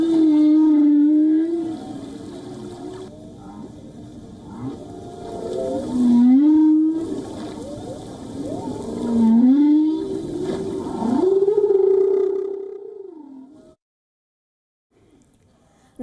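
Whales calling in a noisy ocean, a series of long, loud, sliding moans and upsweeping cries with rolling undertones, separated by brief pauses and ending in near silence.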